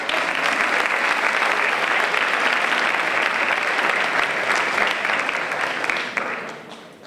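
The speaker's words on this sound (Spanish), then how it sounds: "Aurrera, venga, y un aplauso." Sustained applause from an audience at an award ceremony for promoting volunteering, steady and dense for about six seconds before tapering off at the end.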